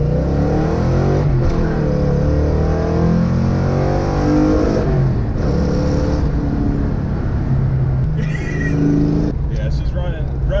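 A 1982 Mercury Capri Fox Body's engine runs steadily from inside the car during a ride, a loud, close drone rising and falling with throttle changes, with occasional shifts and road noise.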